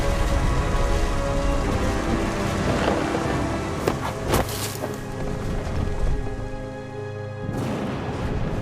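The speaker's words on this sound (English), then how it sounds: "The thunder sounded much too close and full of angry power." Heavy rain pours continuously in a video game thunderstorm, with a deep rumble of thunder rolling underneath and a few sharper crackles standing out midway.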